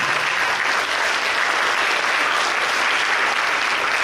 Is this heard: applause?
yes